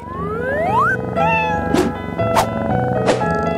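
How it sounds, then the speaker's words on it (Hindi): A small fluffy cat meows several times, clear and close, with rising and falling pitched cries, over a bed of bright synthetic tones and sharp bursts. "इस बार तुम लोग इस प्यारे से बिल्ली के लिए लड़ोगे"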